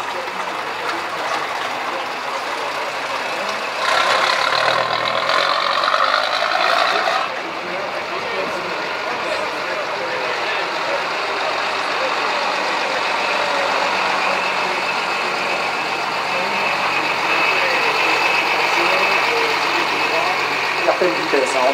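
A Bernard 6R180 truck with its late-version six-cylinder Bernard engine of 185 horsepower and a Pelpel cab runs steadily at a vintage vehicle gathering, a continuous broad rumble lying under a voice throughout.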